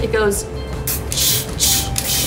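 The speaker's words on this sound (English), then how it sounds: "you can hear when I'm spray painting the sound" Short hissing bursts of a spray paint can coating a metal bar cart, three or four sprays in a loose rhythm, close by, with a brief spoken remark at the start.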